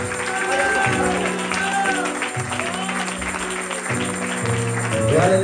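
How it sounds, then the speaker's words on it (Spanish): A church congregation clapping together as an offering of praise, steady crowd applause filling the room under music and a voice, swelling slightly toward the end. "Regálale su ofrenda de palmas."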